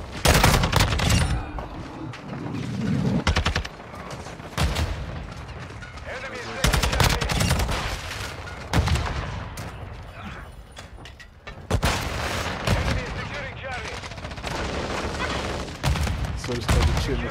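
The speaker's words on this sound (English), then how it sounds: "So he's trying to shoot me." Gunfire in the video game Call of Duty: Modern Warfare II: repeated bursts of rapid automatic fire and heavy booms come in waves, close and loud, with a voice talking over parts of it.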